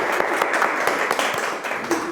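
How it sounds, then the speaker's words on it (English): An audience gives a small round of applause for the COSMOHUB organisers at a talk, brisk clapping from a modest crowd with scattered sharper individual claps, fairly close and steady throughout. "I also want to ask for a small applause for COSMOHUB"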